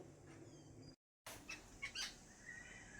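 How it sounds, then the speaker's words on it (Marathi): Birds perched in garden trees give scattered chirps and calls, fairly faint. A short silent gap is followed by a few clearer tweets over a quiet background. "झाडामध्ये कुठेतरी पक्षी आले आहेत आणि खूप छान असे ओरडत होते"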